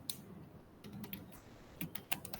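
Quiet computer keyboard typing, with irregular clusters of light key clicks and short pauses between bursts, close and alone with no talking.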